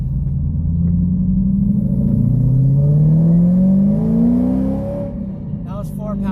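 A Shelby GT500 fitted with a whine mod revs up, its deep rumble climbing steadily in pitch with a rising whine before settling back down, loud and close, with a brief voice near the end.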